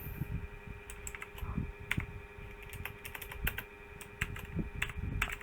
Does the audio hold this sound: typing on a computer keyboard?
yes